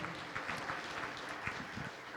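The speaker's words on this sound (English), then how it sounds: "give our incredible buffet providers and chefs and servers a big round of applause" At a gala dinner, a crowd claps for the buffet providers, chefs and servers, a faint, fairly distant patter of many hands that stays even for a couple of seconds.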